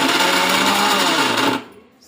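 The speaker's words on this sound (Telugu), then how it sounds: "ప్రీతి మిక్సీ ఓపెన్ చేస్తున్నాం, స్టార్ట్ చేస్తున్నాం." A Preethi mixer grinder runs at full speed, a loud close motor whine that holds steady for about a second and a half, then quickly spins down and fades.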